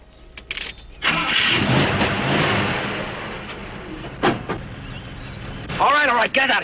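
A car engine cranks and starts, then idles and revs steadily at close range, with brief mechanical clicks and a voice speaking over it near the end.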